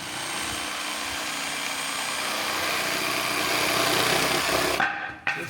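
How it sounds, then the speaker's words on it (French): A power jigsaw whines steadily through a cut for several seconds, loud and close, then stops abruptly near the end. "Avec la scie sauteuse tu peux le finir."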